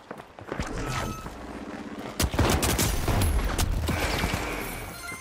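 Shotgun fire in the video game The Finals: several loud sharp blasts with mechanical clatter and a deep booming impact midway, close and dense.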